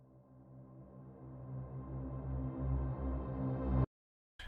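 A reversed Eventide reverb tail swells gradually from soft to loud over about four seconds, a rising wash of tone that ends abruptly, then falls silent before another brief hit starts.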